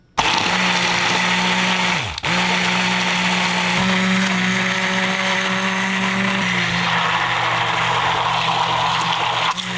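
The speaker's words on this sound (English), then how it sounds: "use the immersion blender to go up and down with it and incorporate that oil that's on top" An immersion blender runs loudly and steadily as homemade eggless vegan mayonnaise is mixed with olive oil, the motor whirring alone with a brief dip in pitch partway through as the blade moves up and down.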